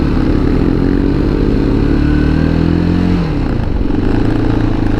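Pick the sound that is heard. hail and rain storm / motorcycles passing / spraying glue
motorcycles passing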